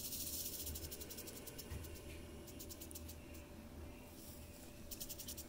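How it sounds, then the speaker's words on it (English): A rattlesnake in Riverside County, California, rattles in a dense continuous buzz while breathing heavily in loud hissing pulses, close and unbroken outdoors. "So now listen to this rattlesnake. Not just the rattle, but listen to him breathe."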